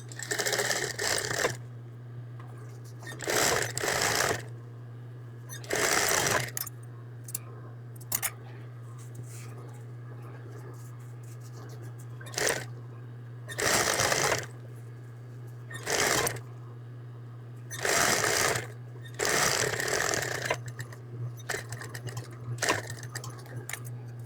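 A serger sewing machine stitches the edge of a terry cloth hooded towel in several bursts of rapid whirring, each a second or two long, separated by pauses with a steady low hum between them.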